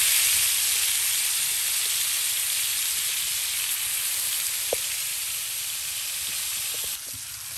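Rohu fish frying in spices in a village kitchen, a dense, continuous high hiss of sizzling oil, close and steady, with a few faint clinks and no speech.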